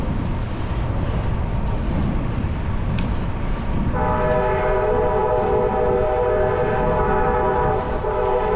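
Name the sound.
train horn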